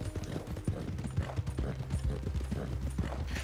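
Horse hooves clip-clop at a steady gait in the Red Dead Redemption 2 video game, a continuous close, rhythmic clatter over a dense ambient game soundscape.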